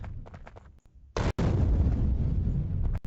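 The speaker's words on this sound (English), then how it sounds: "Big explosion, now die." A big explosion in the video game Factorio bursts in suddenly after faint scattered clicks, a loud sustained roaring blast with a sharp pop inside it that rumbles on to the end.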